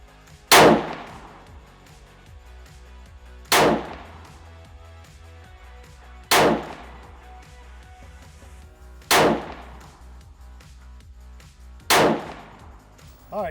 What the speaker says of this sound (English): shoot my last 5 shots to see how it's grouping